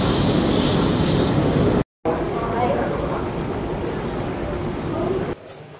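Rumbling New York train station ambience with a steady low roar of rail traffic and echoing crowd noise, voices talking under it, briefly cutting out midway.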